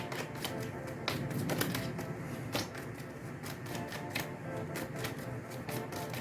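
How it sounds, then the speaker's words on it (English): A deck of tarot cards is shuffled by hand, close and continuous, with rapid riffling flicks and taps repeating steadily. "this card doesn't want to shuffle from the top"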